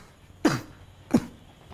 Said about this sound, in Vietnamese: Ho quá sao không uống thuốc?